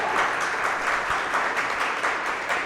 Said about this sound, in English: Give yourselves a round of applause for being here and putting up with our shit.